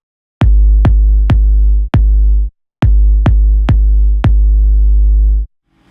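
A synthesized kick drum from a Metrum synth hits eight times in two groups of four, each deep booming thump ringing out with a long sustained low tail, loud and dry with no talking.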